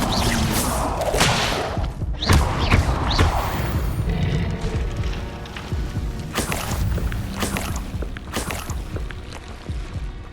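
An Incendio fire spell cast in Hogwarts Legacy bursts out as loud whooshing flame and crackle, with repeated sharp thumps and crashes close by through a dense, continuous roar.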